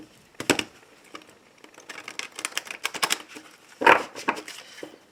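Tarot deck shuffled and cut by hand, quick bursts of crisp riffling card flutter and papery slaps, close and fairly loud, separated by brief pauses.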